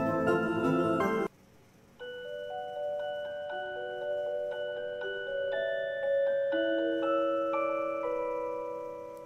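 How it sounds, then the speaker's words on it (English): A creepy music box in The Darkside Detective plays a slow, sparse tinkling melody of clear bell-like notes, each ringing on after a brief louder burst at the start. "Creepy music box."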